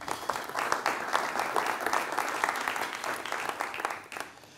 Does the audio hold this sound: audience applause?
yes